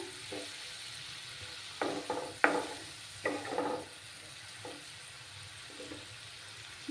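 Masala spice paste sautéing in a pan with a splash of water added, giving soft stirring scrapes and brief sizzling bursts in a quiet kitchen, with no talking.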